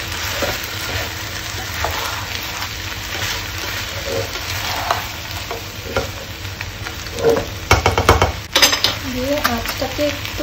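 Food being stirred in a pot on a stove while cooking Bengali dishes such as lentils and pumpkin mash, with steady scraping and a soft sizzle, and a few louder clatters of the spoon and lid near the end.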